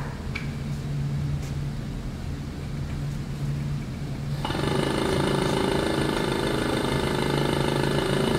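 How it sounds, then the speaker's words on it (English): Compressed air motor driving a small turbine generator in a mini-scale energy storage rig: a steady mechanical hum that abruptly grows louder and brighter as it spins up, then holds a continuous whirring drone. "Then air motor is going to run and turbine generator is connected to it."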